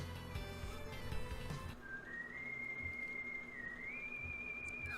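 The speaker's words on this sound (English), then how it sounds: "I know that whistle. It is Proto Man." Proto Man's signature whistle from the Mega Man 7 video game: a clear, sustained melodic whistle tune rising and sliding over background game music, heard alone without talk.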